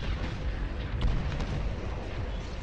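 Dull, rumbling booms of tank cannon fire and explosions from the game Panzer Shoot, a continuous low roar with a couple of sharper bursts, with no talking.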